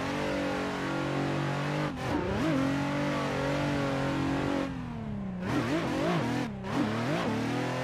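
Car engine in a drifting video game, bogging in third gear on a mountain course, steady mid-pitched drone with rising and falling revving sweeps as the throttle changes, loud and continuous with no talk.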